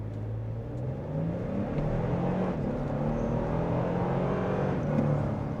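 A 2025 Toyota Tundra TRD Rally pickup accelerates hard from inside the cab, its engine note rising and dropping with quick transmission shifts under a steady road roar, with no voices.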